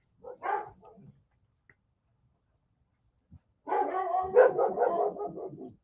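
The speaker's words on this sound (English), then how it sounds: "So that's why she's barking." A dog barks once, then after a pause lets out a longer run of rapid barks, fairly close.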